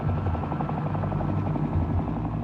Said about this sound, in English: This helicopter is dropping thousands of incendiary devices containing a highly flammable jellied petroleum.